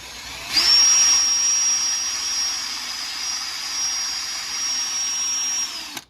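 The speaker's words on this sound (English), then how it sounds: "I'm going to try just running the drill in here" A power drill whirs at a steady high pitch for several seconds, close and loud, then winds down at the end, while fitting a 26-tooth pinion to a 1/14 scale RC truck.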